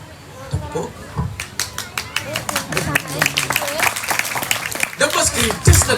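Temple worshippers at a Balinese pura ceremony clap in a dense burst of applause that builds and continues, with voices and crowd chatter mixed throughout.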